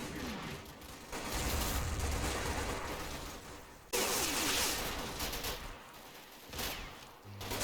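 Gunfire from a Combat Mission battle at Monte Cassino, Colle Sant'Angelo, where troops trade suppressive crossfire against Fallschirmjäger; dense sustained volleys of shots rattle continuously, with a sharp fresh burst midway.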